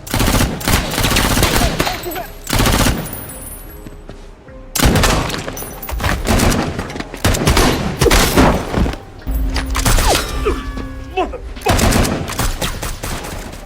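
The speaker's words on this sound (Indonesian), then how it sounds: "Alhasil terjadilah baku tembak di antara mereka." Film shootout between robbers and police, with dense bursts of automatic gunfire and single loud shots, booms and echoing impacts in heavy clusters separated by brief lulls.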